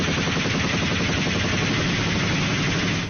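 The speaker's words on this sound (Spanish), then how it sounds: "Son los combates más intensos en los últimos años, con ráfagas de disparos incesantes en zonas rurales." Automatic weapons fire in intense rural combat in Colombia, a loud unbroken barrage of rapid overlapping shots that runs the whole stretch with no pauses.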